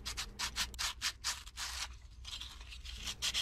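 Rhythmic, scratchy strokes of sandpaper rubbing across a dirty copper sheet, close and fairly quiet, with quick back-and-forth bursts and a brief pause midway.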